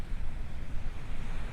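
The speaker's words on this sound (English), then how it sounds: "Oh, it's a little bit windy down here." Strong, gusty wind at a beach buffets the microphone with a continuous roaring rumble, mixed with the wash of surf nearby; no voices.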